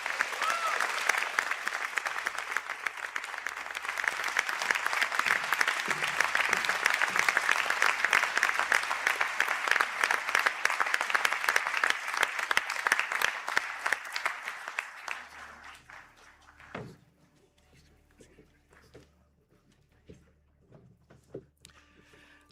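Graduates at an ATU conferring ceremony in Sligo receive a long, full round of applause from a large hall audience, dense and sustained for about fifteen seconds before thinning out to scattered claps and quiet.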